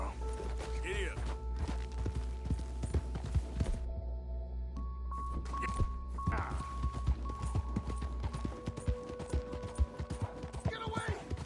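Horse hooves clip-clop in Red Dead Redemption 2, a steady trotting beat mixed with sustained game music tones, scattered impacts and voices.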